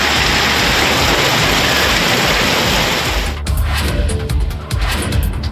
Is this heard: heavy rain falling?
yes